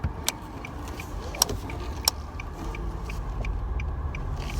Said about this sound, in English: There's another car coming.